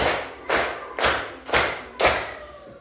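Five sharp claps in an even, steady rhythm, roughly half a second apart, a group of children clapping together in a classroom.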